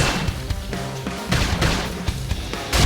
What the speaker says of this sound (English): Topple them with some side gunfire.